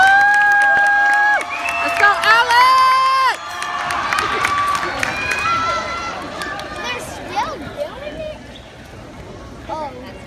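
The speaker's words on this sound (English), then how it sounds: "Let's give them a huge round of applause" At a charity cheerleading competition, a crowd cheers and shouts with high whoops and squeals, loudest early on, then settles into scattered clapping and chatter.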